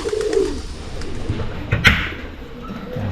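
Pigeons coo softly in a new loft, with a few low, throaty calls and some faint rustling and shuffling around them, close by and without talking.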